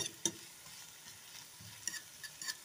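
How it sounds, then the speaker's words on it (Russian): Chopped onion frying in a pan until translucent, a faint, even sizzle with light stirring ticks and a few sharp spatula taps. "И обжариваем наш лучочек до прозрачности."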